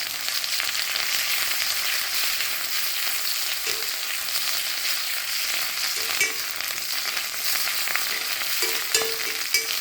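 Dried red chillies and curry leaves fry in hot oil in a pan, giving a steady bright sizzle throughout with a few soft stirring clinks near the end.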